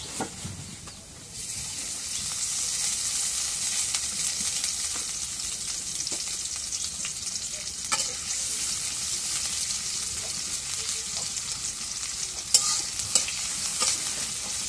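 Oil sizzles and fries in a pan as the contents are stirred in a Bangladeshi kitchen, a loud, continuous hiss with scraping stirring sounds and occasional small pops throughout.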